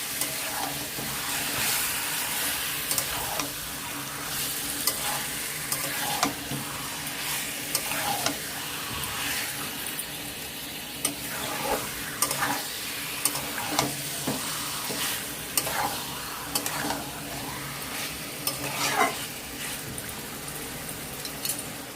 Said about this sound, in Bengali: চিকেনগুলোকে দশ মিনিট কষিয়ে নিব